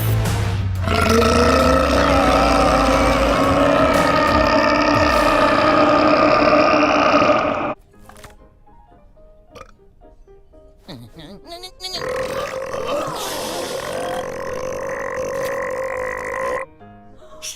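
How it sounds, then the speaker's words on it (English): Loud, drawn-out burps after drinking energy drinks: a long, roaring belch of about seven seconds, a brief quieter pause, then a second sustained, gravelly burp lasting several seconds. "You call that a burp?"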